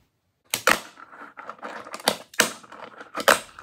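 Small Tech Deck fingerboard with bearing-fitted wheels rolling and clacking on a surface, a few sharp close ticks and clicks with rolling rattle between, no talking.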